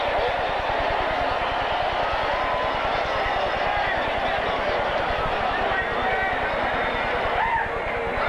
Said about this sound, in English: The crowd here at Busch Stadium in St. Louis chanting one last time, Jeffrey, Jeffrey